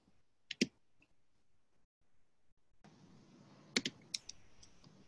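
A computer keyboard arrow key is pressed to advance a presentation slide during a chapter meeting, giving a few quiet, close clicks in short clusters over a faint room hum.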